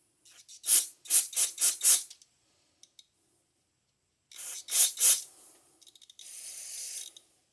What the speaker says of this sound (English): Grab some brake clean.